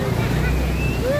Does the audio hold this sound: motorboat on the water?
yes